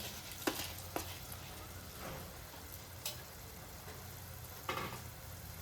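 Rice is stirred into masala gravy in a pan for potato rice, faint scraping and soft clinks of the spoon at irregular intervals over a low, steady background hiss.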